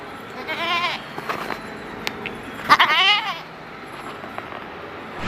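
A large goat at a livestock market bleats in a few wavering cries, with one stronger call in the middle, over a steady murmur of market background noise.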